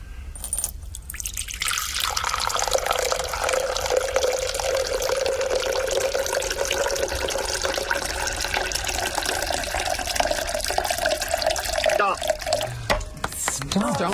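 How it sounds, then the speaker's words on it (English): Water is poured steadily into jugs during a live radio show contest, a continuous liquid rush lasting over ten seconds with a rising fill tone, then stopping abruptly, with people talking faintly. "All right, Emma, he's going to start pouring for you."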